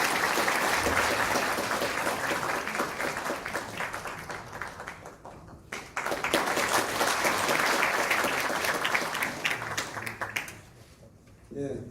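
Audience applause welcoming the mayor of Sejong Special Self-Governing City at a Chungcheong regional council policy forum: sustained, dense clapping from a full room, loud and steady for most of the stretch, dipping briefly midway and fading near the end.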